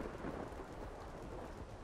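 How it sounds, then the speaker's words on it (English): Rain falls steadily with a low thunder rumble in the video game ARK, Gaia Archaic Isles, a faint, even wash of noise with no voices. "I really hope the rain stops here in a second."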